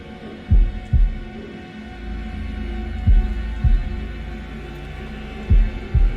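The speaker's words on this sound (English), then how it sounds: "Press A in time with the heartbeat." Heartbeat in the horror video game Man of Medan: deep, loud lub-dub thumps in three pairs, about every two and a half seconds, over a low steady hum, no talk.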